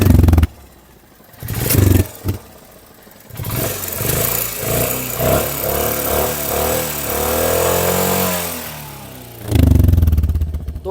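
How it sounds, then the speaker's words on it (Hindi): A Royal Enfield Hunter 350 single-cylinder engine idles with a foot pressed over the exhaust outlet, giving a muffled, pulsing chug that rises and warbles for several seconds between louder unblocked bursts at the start and end. "तो एग्जॉस्ट के ऊपर पैर रखने के बाद कुछ ऐसी आवाज़ आती है।"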